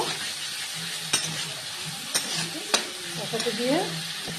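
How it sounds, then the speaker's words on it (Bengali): Pumpkin curry with turmeric sizzling in a pan while being stirred, a steady frying hiss with a few sharp clicks of the spatula against the pan and a brief squeak near the end, no talking. "এবার হলুদ দিয়ে এটাকে নেড়ে চেড়ে একটু কষাতে দিব।"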